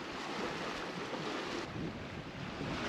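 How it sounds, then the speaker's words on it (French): Waves wash against the bow of a sailing boat under way at sea, a constant rushing splash mixed with heavy wind buffeting the microphone, loud and close with no voices. "C'est tellement agréable cette sensation de glisser sur l'eau sans un bruit, hormis les vagues sur l'étrave."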